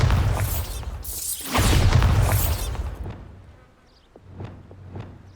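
Bombarda explosion spells in the video game Hogwarts Legacy, two loud booming blasts back to back, then fading into quieter buzzing crackles and a few soft pops.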